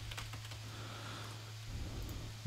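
Keys clatter faintly on a computer keyboard in short bursts during software work, quiet under a steady electrical hum.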